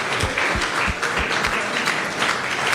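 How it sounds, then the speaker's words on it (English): An audience at a formal dinner event claps for the sponsors, a steady patter of applause with a few heavier thumps, moderately loud and with no speech over it. "Let's give a lot of applause for our sponsors"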